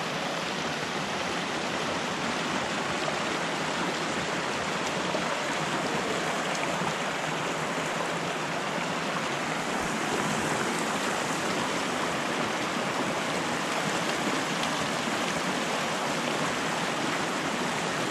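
Cold mountain stream on a Colorado 14er trail rushing steadily over rocks, a dense continuous hiss of flowing water close by, no voices.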